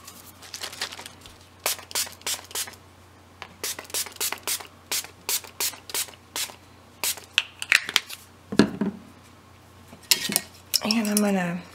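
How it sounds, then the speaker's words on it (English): A spray bottle mists liquid onto a mixed media art journal page in rapid bursts of sharp hissy pumps, short and repeated, with a few bumps and handling noises between them. "So now I'm just going to start spraying."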